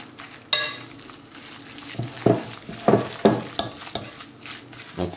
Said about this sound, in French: on donne des petits coups comme ça de fourchette pour émietter